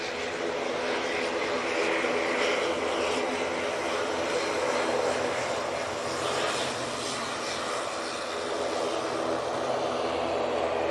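An ATR 42 turboprop airliner at Manchester Airport gives a steady, broad engine and propeller roar that holds at a fairly even level throughout, with faint background noise around it.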